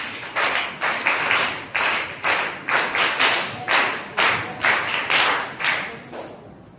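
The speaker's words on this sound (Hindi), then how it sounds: "तो उसके लिए अपने आप को तैयार करने के लिए एक बार वीर ताली।" A seated group claps in steady unison, about a dozen sharp, evenly spaced claps, each a crisp burst that dies quickly, moderately loud and close, with no talking over them.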